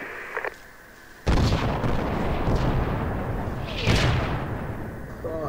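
An artillery bombardment in the military shooter game Project Reality, a sudden heavy blast followed by a long rumbling roar and a second explosive burst, with a voice talking briefly at the start.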